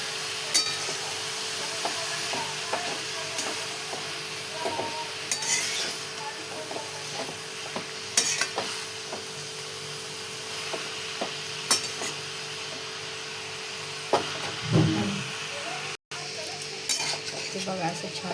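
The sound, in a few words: stirring and mixing vegetable dish with peanuts, chillies and garlic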